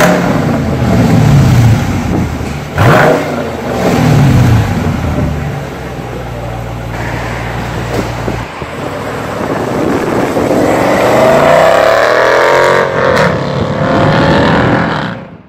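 A 2023 Dodge Charger R/T HEMI V8 with an electronically controlled 2.75-inch active exhaust revs hard, roaring up and down in loud bursts, settling to a lumpy idle, then climbing into a long rising pull.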